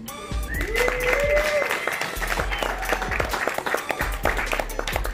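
An audience applauds and cheers for a queen at an evening celebration, with dense clapping throughout and voices rising over it in whoops.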